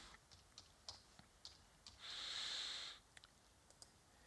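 Quiet, close computer-keyboard typing, a scattered run of soft key clicks broken by a one-second steady hiss partway through.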